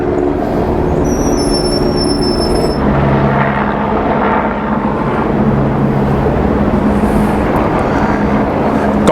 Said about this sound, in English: They must be getting ready to do some helicopter shots from the top of the Liver Building.